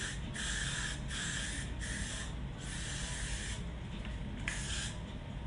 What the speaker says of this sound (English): my can is almost empty, so it's just like squirting out whatever way it want to squirt out